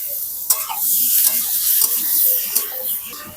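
Marinated chicken fries in a pan with chopped onion, ginger and garlic, sizzling steadily up close while a utensil stirs and scrapes with a few sharp knocks against the pan, no talking.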